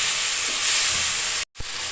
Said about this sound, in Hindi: प्याज अच्छे से भूनने के बाद टमाटर दे दीजिए और टमाटर को भी अच्छे से भूनिए।